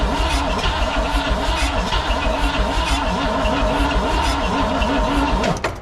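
A 1959 or 1960 Pontiac Bonneville barn find cranks on its starter with the throttle held open, a loud close rhythmic churning that runs steadily without catching and then cuts off at the end.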